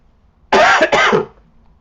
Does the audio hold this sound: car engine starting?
no